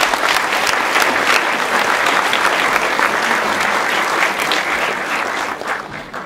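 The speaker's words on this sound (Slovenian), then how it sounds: "En aplavz, prosim" An audience at a cultural school ceremony in Brežice breaks into a loud, sustained round of applause from many hands, slightly fading near the end.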